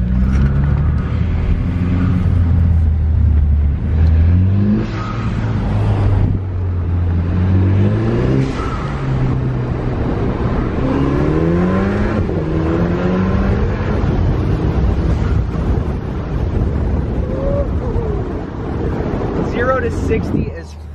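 A loud car driving over rocky ground, its engine droning and rising and falling in pitch as it accelerates, with wind buffeting throughout and someone talking over it.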